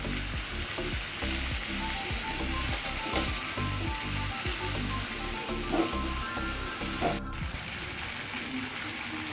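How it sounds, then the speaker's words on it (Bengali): Tomatoes added to hot oil with fried ginger sizzle steadily in a pan, a dense continuous frying hiss broken by occasional stirring clatter, with no talk. "আদাটি আমার ভাজা হয়ে গেছে এবার এর মধ্যে আমি টমেটোগুলো দিয়ে দেবো"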